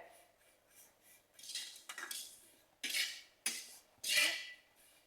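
Vermicelli is roasted in a pan while a metal spoon stirs it, scraping and clinking against the pan in several sharp strokes between quieter gaps.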